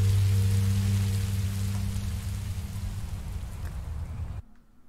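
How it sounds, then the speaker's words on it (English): Steady rain in Minecraft Story Mode hisses as a dense, even wash over a low rumble, fading slightly before cutting off near the end. "Rain is better than monsters."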